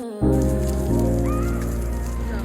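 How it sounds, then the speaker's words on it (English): Rain pouring down in a single spot, a constant close hiss of drops striking the ground that starts abruptly after a brief quiet moment, partly overlaid by tonal music. "it's raining in one spot"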